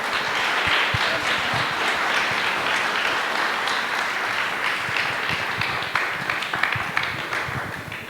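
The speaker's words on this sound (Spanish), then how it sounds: "Recibámoslo con un buen aplauso, por favor." Steady, dense applause from a seminar audience welcoming a speaker fills the room for about eight seconds, loud and continuous with individual claps blurring together.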